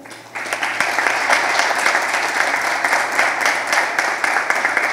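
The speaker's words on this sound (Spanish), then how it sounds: "Un fuerte aplauso." An audience at a formal panel on transparency and fighting corruption claps warmly: dense, sustained applause from a room full of people, fairly close, with many individual claps audible and no break.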